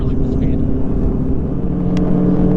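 A motorcycle pulls hard at full throttle, its engine a loud, steady low drone close by for a few seconds, with a rider's voice partly over it.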